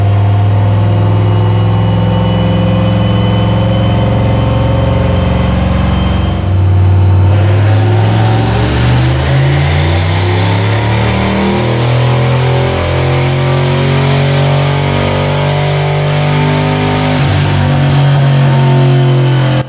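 A loud turbocharged 302 V8 car engine runs steadily on a dyno, then revs up hard with rising pitch and holds a sustained roar before easing off near the end.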